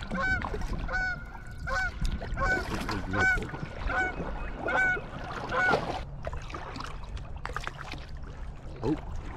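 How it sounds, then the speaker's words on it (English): Geese honk repeatedly in a noisy chorus on Lake Ovid, loud rhythmic calls that thin out toward the end, with faint water and paddling sounds beneath. "I think that's what's going on with all this honking"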